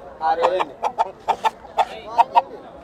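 A rooster at a village country-chicken market gives a string of short, loud clucks and squawks in uneven bursts close by, with crowd noise around it.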